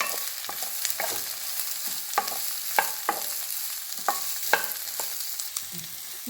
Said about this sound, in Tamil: நறுக்கி வச்ச குடமிளகா, வெங்காயம், இது ரொம்ப நேரம் வதக்கக்கூடாது.